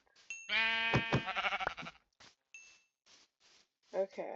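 Sheep in the Minecraft video game bleat: one loud, near, wavering bleat, then a few fainter short sounds and a brief closing bleat.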